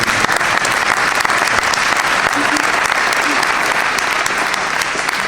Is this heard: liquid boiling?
no